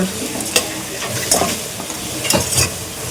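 Food stirred and sautéing in a kadai, a steady sizzle with scraping strokes of a spoon recurring every second or so, close and fairly loud.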